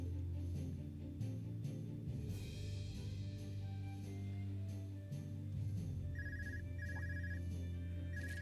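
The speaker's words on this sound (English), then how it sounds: "Got a phone ringing." In the video game Trails of Cold Steel II, a phone rings in short repeated electronic trills over looping background game music.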